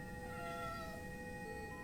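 A cat meows in the video game Anodyne 2: Return to Dust, a faint drawn-out wavering cry over a low steady game background.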